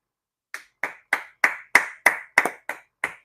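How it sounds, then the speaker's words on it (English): Hands clapping alone, about ten crisp, evenly spaced claps at a steady rhythm, close and clear with no talk. "He's clapping."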